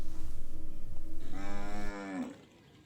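Cattle at a livestock market in Bamenda give a single loud, drawn-out moo, rising then falling, rising over a steady rumble of background noise that cuts off partway through.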